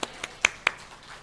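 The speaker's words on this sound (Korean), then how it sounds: "영광의 박수 올려드리십시다" A congregation at a Korean Sunday church service gives a few scattered hand claps, three or four sharp distinct slaps spaced apart, faint and brief in a quiet room with no talking.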